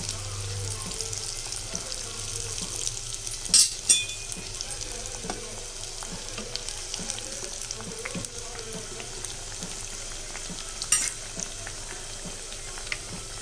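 Kandarappam batter fries in hot oil with a soft, continuous sizzle and bubbling, broken by a few louder spatters and clinks near the start and end, no talk.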